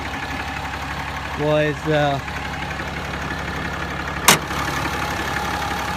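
A Ram Cummins diesel engine idles with its hood open in a steady, close, low rumble, while someone briefly speaks over it and a single sharp click sounds near the end.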